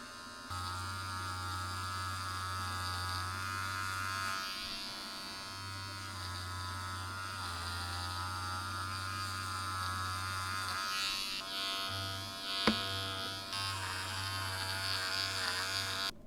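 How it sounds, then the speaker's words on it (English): An electric trimmer buzzes steadily while trimming a tufted rug, a close, moderately faint hum that cuts out briefly a couple of times before resuming, with a small knock partway through. "I'm gonna take this trimmer right here and just go through it, trim it up very nicely"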